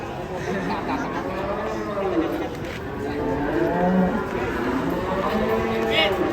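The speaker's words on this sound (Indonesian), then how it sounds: "ada sapi pendek ya sih" Cattle lowing over and over through a steady farmyard din, several long moos rising and falling amid constant people chatter and background noise, fairly close and loud.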